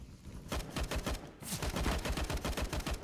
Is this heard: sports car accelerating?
no